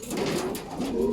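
Pigeons coo in an open loft, giving soft, low, rolling calls that repeat several times, close and clear against faint background noise.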